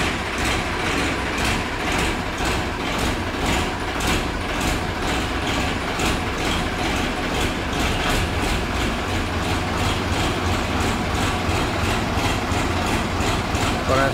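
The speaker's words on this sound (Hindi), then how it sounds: "भाइयों, अब जब फोर्ड ट्रैक्टर स्टार्ट होगा, आवाज़ सुनना आप इसकी।" A Ford tractor idling steadily after starting, having stood unused for ten days, with a rapid regular engine chug and a rhythmic rattling beat throughout, close and continuous.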